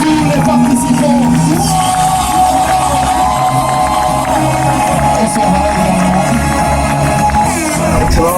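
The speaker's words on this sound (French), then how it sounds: "On applaudit également pour tous les participants" Festival audience cheering and applauding the participants at an awards evening, a dense, loud crowd roar with whoops and shouts that holds steady throughout, with a voice faintly mixed in.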